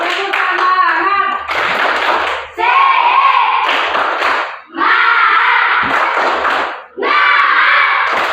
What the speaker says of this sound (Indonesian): Untuk memberi semangat kita tepuk semangat dulu.